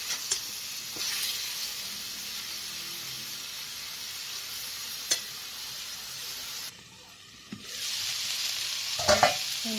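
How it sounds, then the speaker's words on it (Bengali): Leafy greens fry in a pan with a steady hissing sizzle and occasional utensil taps, briefly dropping out before the sizzle resumes with a few sharp clicks. "শাক ভাজাটা দেখো"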